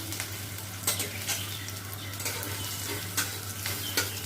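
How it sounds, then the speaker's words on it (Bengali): Onions frying in a pan while being stirred, a steady moderate sizzle broken by several scraping, clinking spatula strokes at irregular intervals. "ভালো করে নেড়ে নিচ্ছি"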